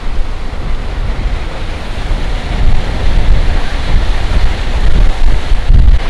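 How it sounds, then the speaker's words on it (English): Strong wind buffets the microphone at a canal lock beside a narrowboat. The roar is loud and continuous, with gusts swelling partway through. "The wind is so strong."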